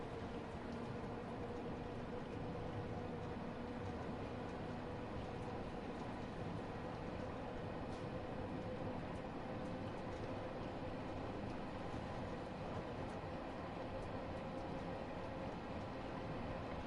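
A Bakerloo line London Underground train in Train Sim World 2 runs toward Queen's Park with a steady, unbroken rumble and rolling noise at low volume, with no talking.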